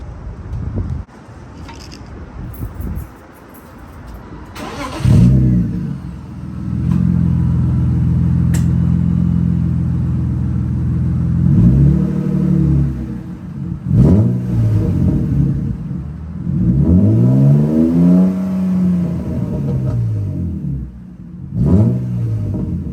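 A 1998 BMW E36 323i with a cut, deleted muffler starts and idles with a loud, raw rumble, then revs repeatedly in rising and falling sweeps, close by with no talking.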